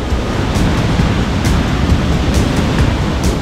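Heavy surf on a Hawaiian North Shore beach during a big swell, a steady loud roar of breaking waves with wind noise on the microphone throughout.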